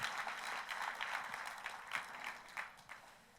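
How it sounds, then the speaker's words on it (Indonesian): Church congregation clapping for God during a sermon, a dense steady patter of many hands through the whole stretch with a few louder bursts, fairly close and lively. "Tepuk tangannya pula yang paling meriah buat Tuhan kita."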